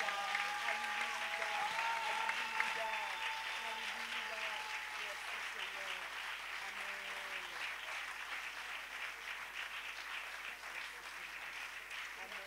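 A church congregation applauds and acclaims in a steady, dense wash of clapping that holds for the whole stretch, with voices calling out and singing over it early on.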